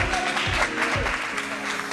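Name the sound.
audience applause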